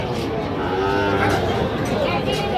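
Sahiwal cattle at a busy livestock market, a steady crowd din with lowing and mooing woven through dense background chatter of people talking throughout.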